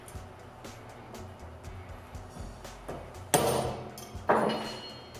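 Hammer driving the collet out of a bicycle bottom bracket bearing held in a vise: two sharp metallic blows near the end, close and clear, after quiet background tapping and handling noise.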